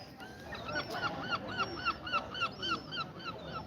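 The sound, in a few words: seagulls calling at the seaside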